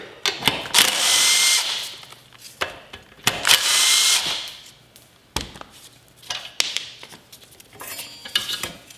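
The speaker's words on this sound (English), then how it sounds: "Moving on to the rear, we're going to remove this rear brake." Tools working on the rear brake of a 97cc Baja mini bike during restoration: two long bursts of a power tool whirring, with clanks, taps and metallic knocks in between, close up.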